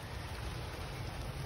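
Steady rain falls outdoors, a continuous broadband hiss with low rumble and no distinct drops or voices, even in level throughout.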